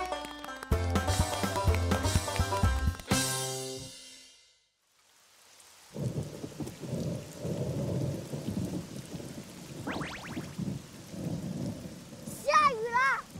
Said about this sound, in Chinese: 现在天下雨了，我们赶紧去避雨啊！